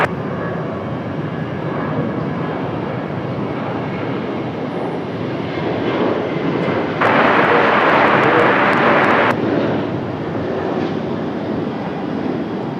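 An airliner departs Raleigh-Durham International Airport bound for Miami, its engine roar a steady broad rumble heard from a distance, with a brief louder hissing burst partway through, and no talking.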